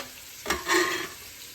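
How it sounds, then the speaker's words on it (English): Onions and garlic frying in a pan: a close, soft sizzle with a brief stirring scrape, swelling for a moment before settling back to a gentle hiss. "I'm only going to cook the onions for about, onions and garlic I should say, for about"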